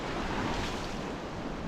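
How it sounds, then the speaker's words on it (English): Ocean waves at a beach on Ibiza make a steady broadband wash with wind buffeting the microphone, continuous and fairly loud. "So I've made it to the beach."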